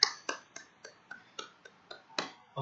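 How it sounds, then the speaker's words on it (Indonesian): Children in a 2020 religious-lesson class clap for a classmate named Berlin, heard as about ten sharp, separate claps in a steady, even rhythm, quiet and close with near silence between each one. "Tepuk tangan untuk Berlin."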